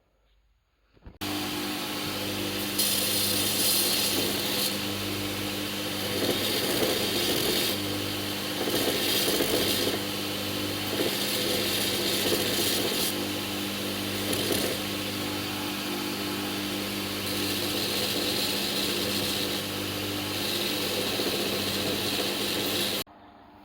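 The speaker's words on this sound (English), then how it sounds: "Just rounding stuff over with an angle grinder" An angle grinder rounds over the edges of a steel knife blank for a survival knife build, starting up abruptly and then whining loud and steady for about twenty seconds, with pitch and grinding texture shifting as it bites the metal.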